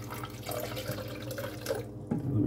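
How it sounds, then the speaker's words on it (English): Poland Spring bottled water is poured steadily into a blender jar, a continuous close trickle and gurgle that runs for a couple of seconds with no voices. "I was pouring some Poland Spring in the background."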